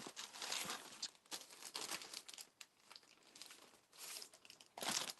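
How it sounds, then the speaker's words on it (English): Sheets of paper are handled and crinkled during monoprint printmaking, a series of soft, close rustles and crackles in irregular bursts, faint and with no speech. "And grab another piece of paper."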